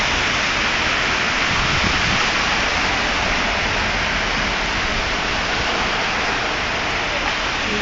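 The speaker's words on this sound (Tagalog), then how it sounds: "lalo lumalakas yung ulan" Heavy rain pouring during a storm in Jeddah, a dense, loud, unbroken roar of rainfall filling the whole clip with no clear pauses.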